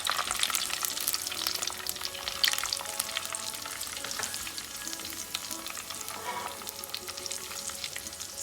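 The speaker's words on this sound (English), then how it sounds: "Let's fry it until it's nice and brown." Mustard seeds and sliced garlic fry in a pan for an onion curry, giving a steady close sizzle with crackling pops and occasional stirring scrapes, with no talking.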